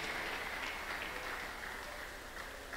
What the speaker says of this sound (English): Appreciate the Lord by clapping unto him.